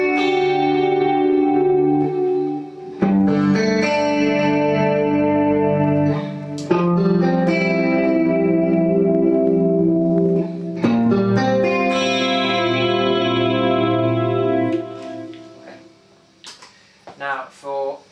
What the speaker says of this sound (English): the only difference was I was adding some reverb and some delay from the Strymon